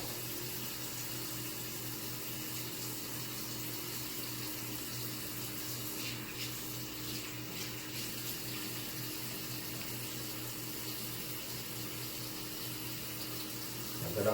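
Water runs from a tap into a sink during hand washing, a faint, steady hiss that continues unbroken with no voices until a small bump at the very end.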